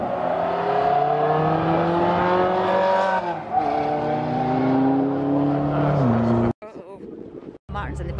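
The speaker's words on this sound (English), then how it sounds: "It's a Ferrari." A Ferrari engine on a racing track during demo laps, roaring loudly with rising and falling pitch as it revs and shifts, before cutting out abruptly in short gaps near the end.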